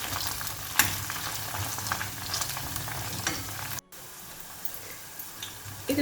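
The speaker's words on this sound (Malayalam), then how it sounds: "ഒരു ലൈറ്റ് ഗോൾഡൻ കളർ ആവുന്ന വരെ ഒന്ന് ഫ്രൈ ചെയ്തെടുക്കാം." Okra pieces fry in a pan until light golden, a continuous close sizzle with stirring clicks and one sharp knock, dropping to a quieter crackle after a brief cut.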